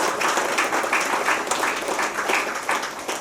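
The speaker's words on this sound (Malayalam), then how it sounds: "ഒരു കൈയടി കൊടുത്തുകൂടെ അദ്ദേഹം ചെയ്തൊരു പ്രവർത്തനത്തിന്?" An audience at a cooperative society event breaks into dense, sustained applause for the team, many hands clapping at once, loud and steady for a few seconds.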